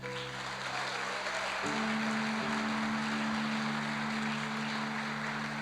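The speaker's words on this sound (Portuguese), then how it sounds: "Só aqueles que Deus já fez, dê uma salva de palmas." Church congregation applauding in a steady, dense wash of clapping that lasts throughout, with sustained keyboard or organ tones underneath and no speech.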